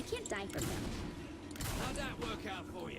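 Explosions and gunfire in the video game Saints Row 4 rumble and crackle continuously under loud overlapping talk from players.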